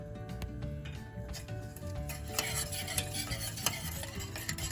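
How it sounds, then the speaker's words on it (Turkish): A spoon scrapes and stirs thickening milk pudding in a pot on the stove, a close, busy run of clinks and rubbing over a faint bubbling simmer, with no voices. "Sürekli karıştırarak koyulaşıncaya kadar pişirelim."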